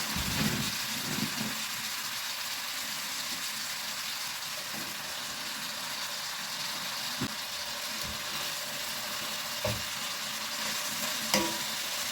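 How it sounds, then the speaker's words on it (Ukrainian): Shredded cabbage fries over high heat, sizzling steadily in a hot pan, a constant hiss broken by occasional soft scrapes and knocks of stirring. "мені потрібно отримати таку хрустку смажену капусту, тому смажу на великому вогні"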